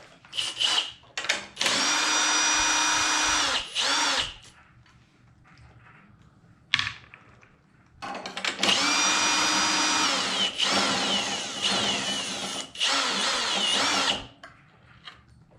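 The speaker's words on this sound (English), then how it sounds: "So I have my drill set up for 10 already." A power drill whirs in two long sustained bursts, separated by short pauses and a few clicks, loud and close, drilling into a generator carburetor.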